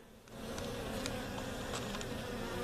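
Honey bees in a laying worker hive buzz in a steady, dense drone that swells after a quiet start and holds close and continuous.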